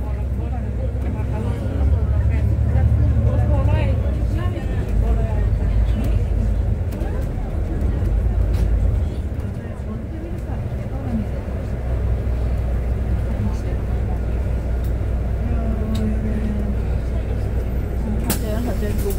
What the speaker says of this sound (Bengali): সাফকো বাস স্ট্যান্ডে এনে থামাচ্ছে বাসটা